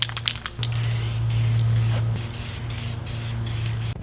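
Close, steady hiss of spray painting honeycomb grill inserts charcoal gray on a car, running as one continuous sustained blast with slight variations in pressure after a brief start.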